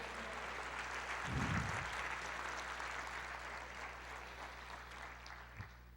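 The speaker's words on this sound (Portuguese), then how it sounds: "Você pode aplaudir o Senhor" A church congregation applauding during a sermon, a steady wash of clapping at moderate distance with a brief louder burst early on, continuing without speech.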